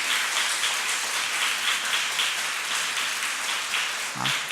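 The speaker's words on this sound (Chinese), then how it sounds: "我们给他们鼓掌祝福哈" A church congregation at a Mandarin Presbyterian service applauds a family, a steady, dense patter of many hands clapping at moderate distance, holding evenly throughout.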